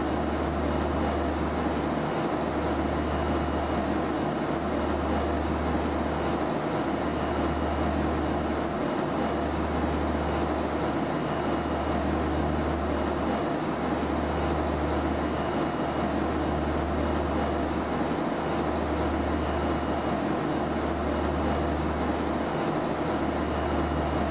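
A Carenado Saab 340B twin-turboprop takes off in a flight simulator, with a loud, steady engine roar and a rhythmic low thumping of wheels over runway joints throughout.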